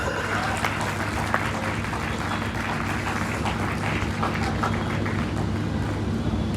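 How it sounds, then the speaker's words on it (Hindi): Audience applause at a motivational comedy talk, a steady continuous wash of clapping at moderate distance over a low background hum. "तालियां दे।"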